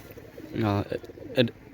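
A short, soft cooing phrase from a male pigeon, close by, followed by a brief second call.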